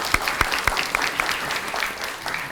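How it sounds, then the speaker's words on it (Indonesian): A small school quiz-competition audience claps briefly, a few sharp claps at first that thin into scattered patter. "tepuk tangannya."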